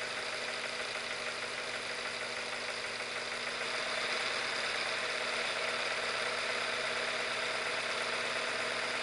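A Visible V8 model engine runs steadily at idle with a definite rattle, giving a constant, even mechanical hum with a fine buzzing clatter that continues without a break.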